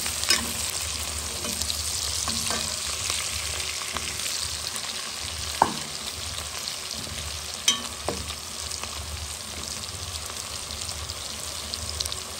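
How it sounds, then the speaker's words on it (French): Onions and sausages sizzling together in a pan for a Réunion-style sausage and cabbage carry, a steady close crackle with a few sharp clicks of a utensil against the pan. "Les oignons sont bien fondus dans les saucisses."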